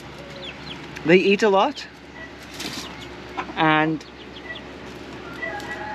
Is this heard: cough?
no